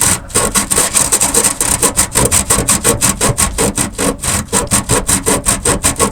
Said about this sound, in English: I'm sanding this down so I can put some Rust-Oleum rust reformer on this